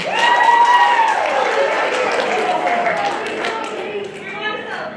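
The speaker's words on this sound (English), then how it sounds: "one more round of applause for the 2021-22 first trimester Habits at Work Honors students" A school audience applauds and cheers for sixth-grade honor roll students in a steady, loud wash of clapping with scattered whoops and crowd voices throughout.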